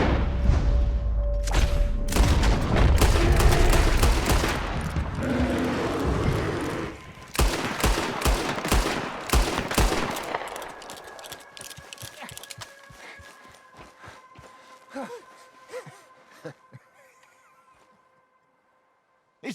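Gunshots ring out during a bear hunt in the video game Red Dead Redemption 2, with a loud, rapid volley of blasts followed by scattered single shots that thin out and fade to near silence.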